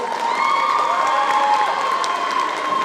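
A crowd cheers loudly and claps for a cosplay contestant at a geek culture cosplay contest in Lorient, a steady dense roar of shouts, whoops and applause with no speech over it.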